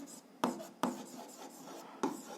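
Pen writing on paper while working through an algebra exercise: soft scratchy strokes at close range, punctuated by three sharp taps as the pen meets the page, quiet with no talk.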